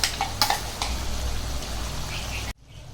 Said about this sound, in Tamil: அரைச்சி வச்சதெல்லாம் சேர்த்து நல்லா வதங்கி விட்டோம்.